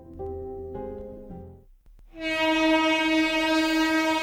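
A train horn blares in a long, loud, sustained tone after a brief pause, preceded by lower rumbling train tones, a sound effect in a Bengali audio drama.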